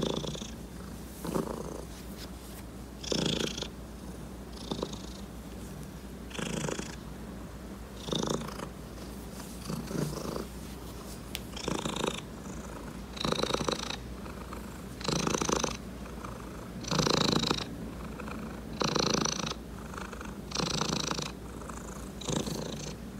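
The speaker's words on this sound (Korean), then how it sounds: "고양이가 낮게 반복적으로 그르렁 또는 갸르릉 내는 소리를 이제 골골송이라고 하거든요" A cat purrs close by in low rumbling cycles, each breath forming a rising and falling pulse, steady and regular throughout with no talking.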